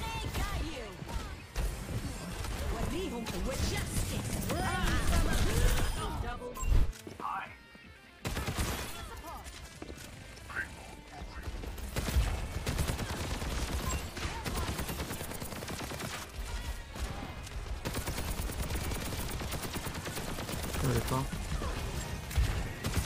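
Pharah's Barrage rocket ultimate in Overwatch 2 unleashes a long, dense stream of rapid rocket blasts and explosions amid chaotic match combat, with a player talking over it.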